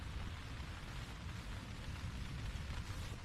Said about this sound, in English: sounds like it's raining pretty good outside